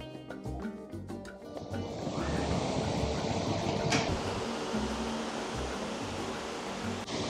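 A regular electric fan powered by an EcoFlow RIVER 3 Max Plus portable power station runs with a steady, broadband whooshing airflow, close and constant throughout with no speech.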